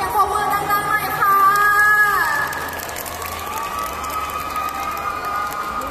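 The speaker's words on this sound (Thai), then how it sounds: "ขอเสียงปรบมือดังๆหน่อยค่ะ" Cheering and applause from a school open house music audience: shrill young voices shouting for about two seconds, then settling into a sustained wash of crowd clapping and chatter.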